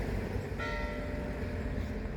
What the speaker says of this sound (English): As the church bell is ringing